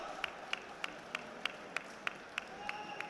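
Crowd at a K1 kickboxing title event clapping in a steady, evenly spaced rhythm, sharp claps repeating about three times a second over a murmur of audience noise.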